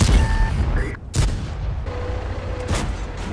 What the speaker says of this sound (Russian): вы слышите, да, что когда от третьего лица стреляешь, слышно вот этот раскат грома после выстрела